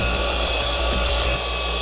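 Machine polisher compounding the paint of a Ford Focus ST, giving a steady whirring drone with faint rubbing texture, at moderate level and close by, with no talking.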